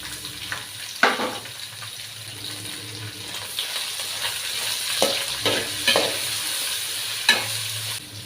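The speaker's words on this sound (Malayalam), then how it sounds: "രണ്ട് സവോള അരിഞ്ഞ് വെച്ചിട്ടുണ്ട് അതും കൂടെ ചേർത്ത് കൊടുക്കാം കേട്ടോ ഇത് നമുക്ക് നന്നായി ഒന്ന് വഴറ്റിയെടുക്കാം" Sliced onions and green chilies sautéing in a pan for a soya dry fry, a steady close sizzle with intermittent stirring clatters and scrapes of the spoon against the pan.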